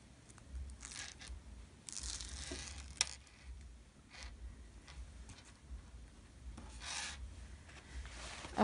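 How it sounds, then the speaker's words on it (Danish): Paper backing being peeled off adhesive zipper tape while sewing a zipper, heard as several close, soft rasping tears and rubs in bursts with quiet gaps between them. "Så trækker jeg papiret af."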